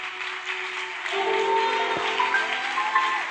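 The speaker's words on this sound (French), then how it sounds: "Quand vous acclamez, vous élevez notre Jésus ici." A church congregation applauds and cheers during a prophetic service, a continuous crowd clapping that swells partway through, heard over sustained organ-like tones in a reverberant hall.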